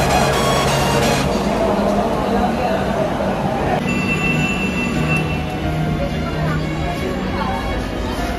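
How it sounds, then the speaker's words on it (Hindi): A metro train rumbles through Baranagar Metro Station in Kolkata, its wheels squealing high and metallic, while people talk under the continuous rail noise. "ये है बरानगर स्टेशन, यानी मेट्रो स्टेशन, ये बरानगर मेट्रो स्टेशन है।"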